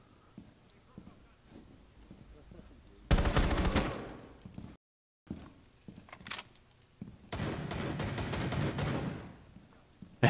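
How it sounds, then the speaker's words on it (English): Shotgun fire in the video game Rainbow Six Siege during a terrorist hunt match: two long, loud stretches of dense blasts and clatter, separated by a brief dropout, with faint game sounds between them. "Using a shotgun."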